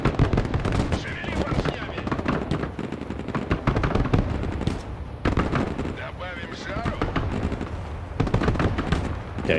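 Heavy machine gun fire in the war game Broken Arrow: dense, overlapping bursts and distant explosions roll on almost continuously, loud and chaotic, with a voice talking underneath.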